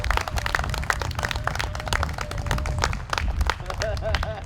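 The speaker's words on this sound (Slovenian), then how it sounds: "En aplavz direktorju." A small audience at a care home gives the director a round of applause, with scattered hand claps building into a dense patter, and voices murmur underneath.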